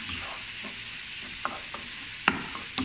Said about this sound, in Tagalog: Lutuin lang mga itong mabuti ang ating kamatis.